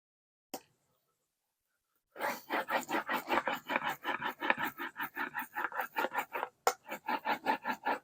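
Scissors cut speaker grill cloth during a Mission MKII Model 70 speaker refurbishment, a close series of quick, rhythmic snipping strokes that follows one isolated click and a short silence.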